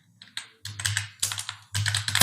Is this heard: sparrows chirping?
no